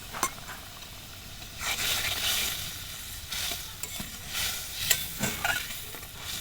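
Fish curry masala sizzling in a pan after water is added, a continuous close frying hiss with repeated scraping stirs and a few sharp knocks of the utensil against the pan.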